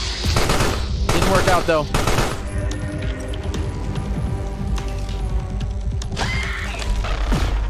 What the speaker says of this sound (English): Oh! Sentry gun got me!